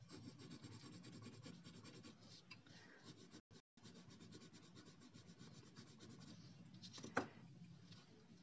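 Colored pencils scratch and rub across paper in quiet, close, continuous strokes. There is a brief pause partway through and a sharper tap near the end.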